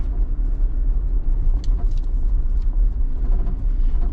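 UTV on big mud tires driving through a rut on Clifton Ridge Road trail, a heavy low engine rumble and churning drone, close and steady with slight surges and a few faint knocks.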